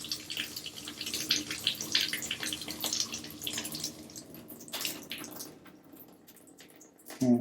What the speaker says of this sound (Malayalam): അപ്പോൾ ഞാൻ വാൽവ് തുറന്ന് വെള്ളം ഡ്രെയിൻ ചെയ്ത് കളയാണ്.